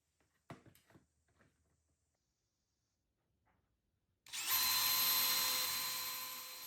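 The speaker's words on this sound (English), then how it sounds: "I added screws on both sides just to make sure that it would be strong enough" A power drill drives screws into a wooden bed frame joint: a few quiet knocks and handling taps come first, then the drill starts with a loud, close, steady whine that holds for a couple of seconds and slowly fades.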